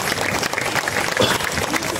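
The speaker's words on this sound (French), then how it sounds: "je tiens à ce qu'on les applaudisse très très fort" A crowd at an airshow parade claps for the event's volunteers, a dense, steady wash of hands that stays at one level throughout.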